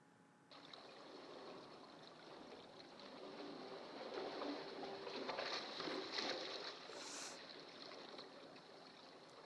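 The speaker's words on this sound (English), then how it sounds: "Ooh, lapping waves." Lapping waves wash in a steady, soft broadband swell that rises slightly midway, with a brief high chirp near the end.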